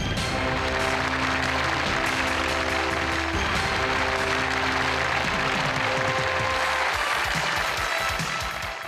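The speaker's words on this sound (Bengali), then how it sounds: "আপনারা মঞ্চে চলে আসুন, তাদের জন্য করতালি" An audience claps steadily for contestants walking onto the stage of a Narayanganj TV variety show, the loud, dense applause running for several seconds over stage music before thinning near the end.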